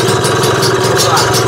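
Close and loud, a Lambretta Series 2 scooter engine is held at a fast, steady rev, with a rough, even drone over the short stretch.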